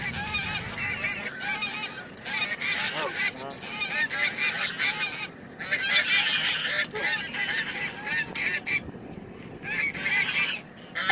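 Several geese honk loudly and repeatedly at close range, harsh overlapping calls running almost nonstop, with a little human talk mixed in.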